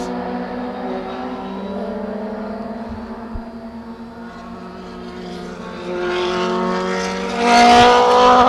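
Historic race cars from the 2011 Historics at Portland International Raceway roar past one after another, engines droning steadily and swelling louder as a bright, high-revving car sweeps close by near the end.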